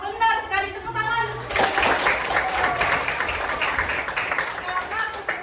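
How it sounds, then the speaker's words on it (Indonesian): Classroom applause at a vocational high school, SMKN 1 Payakumbuh, as students clap together for a correct answer in a religion lesson. Steady broadband clapping fills most of the clip after a brief voice at the start. "Nah, benar sekali, tepuk tangan."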